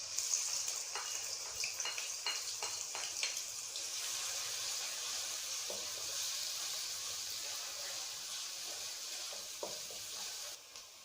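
Chopped onions sizzling in hot oil in a wok, a steady bright hiss with scattered stirring clatters and spatters, fairly quiet and without talk.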